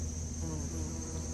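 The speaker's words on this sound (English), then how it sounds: "You see the bees working the zinnias." Bees forage among zinnia flowers in a backyard garden in the Appalachian Mountains, giving a soft, continuous buzzing hum that holds steady without any talking.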